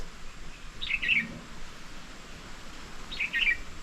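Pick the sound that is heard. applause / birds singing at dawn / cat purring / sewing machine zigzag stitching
birds singing at dawn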